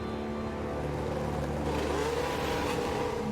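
Race cars sit on the grid at the Austrian Grand Prix in the F1 Manager game, giving a steady engine drone with rising revs and a swelling whine toward the end, loud and continuous.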